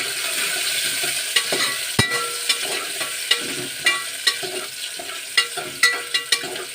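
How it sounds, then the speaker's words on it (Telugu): Onions and green chillies frying in a pan for vegetable rice, a steady loud sizzle with repeated sharp scrapes and clinks of a spoon stirring against the pan. "ఫస్ట్ ఆనియన్స్, పచ్చిమిర్చి ఇవి 1 నిమిషం పాటు పచ్చివాసన పోయేలాగా వేసుకున్నామండి."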